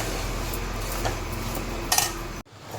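Vermicelli roasting in ghee in a pan, a steady low background with a few soft utensil clinks and one brief louder scrape before the sound cuts off abruptly.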